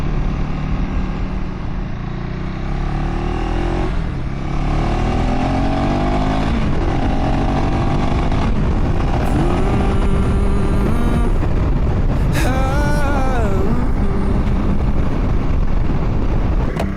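A KTM 390 Adventure R motorcycle with a decat pipe riding along, loud engine drone rising and falling through gear changes, with heavy wind buffeting throughout.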